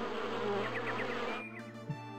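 A person imitates a swarm of buzzing wasps as a tabletop game sound effect, a close, continuous droning buzz that wavers in pitch for over a second before dropping away to a quieter hum.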